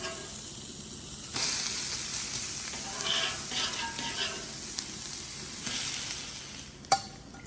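An adai lentil pancake sizzling on a hot pan after being flipped, a soft steady frying hiss with small crackles, close and fairly quiet, with a sharp click near the end.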